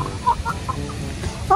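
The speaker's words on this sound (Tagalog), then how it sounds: "Pinupuntahan na ng manok." Close, loud clucking from a chicken, several short bursts over a rough background rumble.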